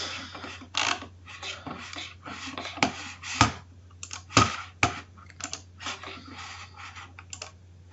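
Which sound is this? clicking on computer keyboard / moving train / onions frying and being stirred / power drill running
clicking on computer keyboard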